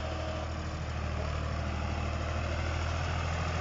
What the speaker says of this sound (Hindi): साथ साथ हैरो पर चल रहा है पावर टेक। ये शानदार आवाज़ दोस्तों देख सकते हैं आप।